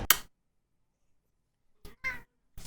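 A pet cat indoors gives one short meow, then after a long silence two more meows in quick succession, close to the microphone and fairly quiet.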